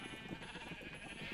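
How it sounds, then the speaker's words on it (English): Sheep bleat in Minecraft, a quick wavering baa close and fairly loud over a dense background, lasting about a second. "Why does he have a bunch of blue and pink sheep?"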